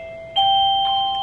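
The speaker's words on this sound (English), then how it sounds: "I want to start using my doorbell more" A classroom doorbell gives a clear two-tone ding-dong chime, close and fairly loud, ringing once and fading out over about a second with no talk.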